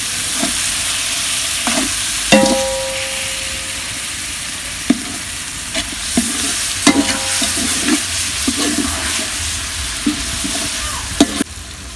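Yogurt is stirred into sizzling country chicken biryani masala, a steady frying hiss broken by scraping spoon strokes and a few sharp clinks against the pot, close and loud with no talking.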